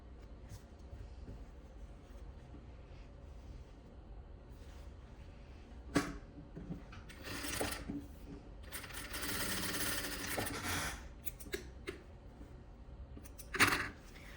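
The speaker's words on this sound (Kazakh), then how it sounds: "Бір жағын тігіп алдық, енді келесі жағын тігеміз" A sewing machine stitches a fabric belt in short, quiet bursts of whirring separated by pauses, with a couple of sharp clicks along the way.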